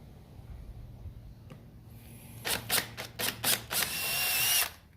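A short run of sharp, whining bursts from a power drill boring holes in a chainsaw bar, five or six quick pulses followed by a longer steady grind, close up over a low background hum.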